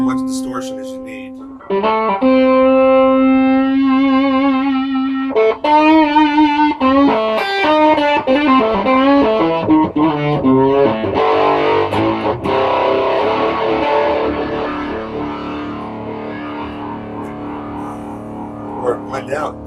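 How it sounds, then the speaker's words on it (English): An electric guitar runs through a Big Muff fuzz pedal blended with the clean signal, opening on a held note, then moving into bending notes and thick, saturated chords that grow dense and buzzy, loud and close. "Just bring in however much distortion as you need."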